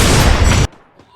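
A Free Fire headshot lands as one loud, dense gunfire blast lasting over half a second, then cuts sharply to a faint tail with a couple of soft distant pops.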